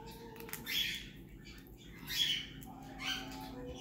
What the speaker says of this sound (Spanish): Como que ya se despertaron los pájaros.